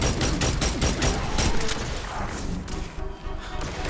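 A sidearm fires in Destiny 2 in quick, dense bursts of shots that run together as rapid, sharp gunfire, easing off slightly toward the end.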